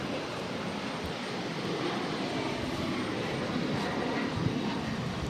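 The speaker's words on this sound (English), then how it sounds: "2352 taking off to Nantucket on an E190" A JetBlue Embraer E190 jet airliner takes off at Boston Logan Airport, its engines giving a continuous, steady, broad roar throughout with no pause.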